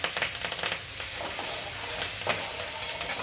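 Chopped green chillies sizzle in hot oil in a pan while being stirred, a steady close frying hiss with brief scraping strokes.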